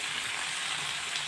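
Food fries in a pan with a steady, soft, hissing sizzle, close and even, with no voices over it.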